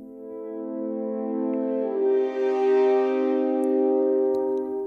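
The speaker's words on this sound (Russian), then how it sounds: "И создадим тесно расположенный аккорд валторнов." A sustained chord of closely voiced French horns, warm and mellow, swelling gently and holding steady for several seconds.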